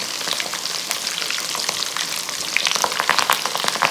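Folded tortillas filled with potato and kale fry in hot oil, a loud close crackling sizzle with dense popping spatters that grows busier toward the end.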